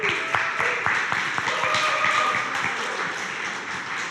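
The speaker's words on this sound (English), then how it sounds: "Can we get some applause for live coding at LNUG?" An audience at an LNUG Node.js meetup claps for a live coding demo. Sharp, separate claps come close together at first, then thin out and fade into quiet room noise.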